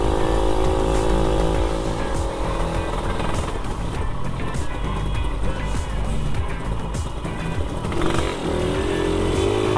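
A motorcycle engine runs steadily during a test ride, a continuous loud rumble and buzz with wind noise that swells slightly as the throttle opens, recorded close on the bike.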